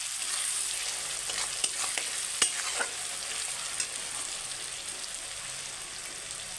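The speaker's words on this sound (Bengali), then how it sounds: "আমি একটু টমেটোকে নেড়ে চেড়ে ভেজে নেবো।" Tomatoes fry in hot oil for a home-style Bengali chicken curry, giving a steady close sizzle across the whole stretch while a utensil stirs them, with a few sharp scraping clicks near the middle and no talking.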